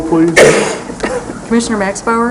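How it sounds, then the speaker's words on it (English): A single brief cough breaks into a county public health and safety board meeting during the roll call, heard close and short amid the surrounding talk. "Bless you. Coughing."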